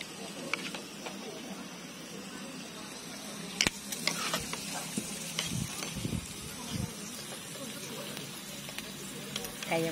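Shrimp, seaweed-wrapped shrimp and crab sticks sizzle on a Thai pork grill pan, a continuous crackling hiss with occasional sharper pops, close up, with a voice speaking faintly in the background.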